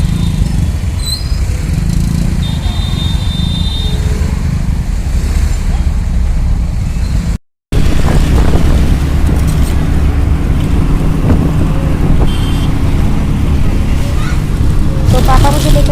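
Steady loud engine drone and road rumble from inside a moving auto-rickshaw in city traffic, with a brief cut midway and faint horn-like tones; someone talks over it.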